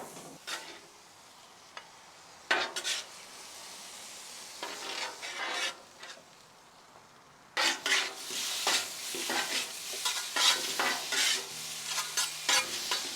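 On a hibachi griddle, garlic butter and fried rice are stirred and fried, with bursts of spatula scraping and sizzling that grow busier and louder in the second half, with no speech.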